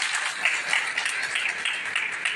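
Crowd applause at a political rally in Akola, Maharashtra: a dense, steady wash of many hands clapping together, sustained and fairly even throughout with no voices standing out.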